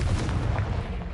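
Heavy booming blasts from the Confringo spell in the video game Hogwarts Legacy, a dense low rumble of explosive impacts rolling together over about a second.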